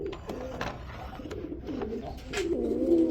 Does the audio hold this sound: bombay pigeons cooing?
yes